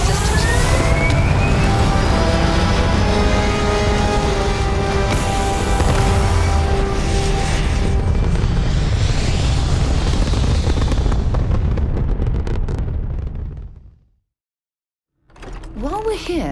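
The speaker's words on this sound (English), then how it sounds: "Liftoff looks good. All systems" Spaceship liftoff in the Starfield video game, a loud sustained rumbling roar with layered engine tones and a rising whine, continuous for about fourteen seconds before cutting to silence, then a brief return of sound.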